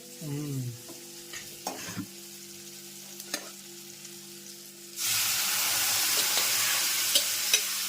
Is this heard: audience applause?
no